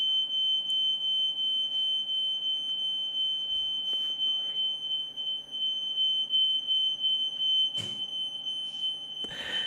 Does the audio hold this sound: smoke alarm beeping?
yes